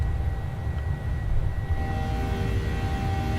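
Jet engines of a PMDG Boeing 737 in Microsoft Flight Simulator, a steady low roar with faint high whine tones, continuous and fairly loud throughout, no voices.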